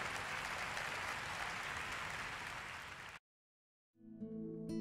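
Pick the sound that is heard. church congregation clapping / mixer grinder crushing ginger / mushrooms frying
church congregation clapping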